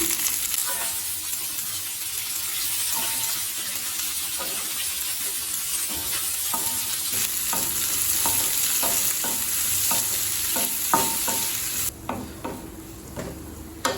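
Garlic cloves, sliced onions and lentils fry in a pan for onion chutney, with a continuous close sizzle and regular scraping stir strokes throughout, louder and crisper toward the end.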